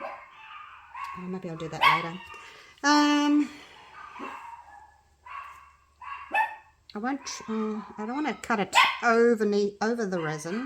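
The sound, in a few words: dogs barking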